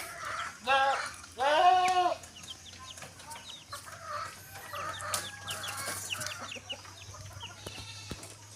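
Native chickens in a backyard flock cluck and chatter, with a couple of louder squawks up front, then softer scattered clucks and small bird calls over a low steady hum.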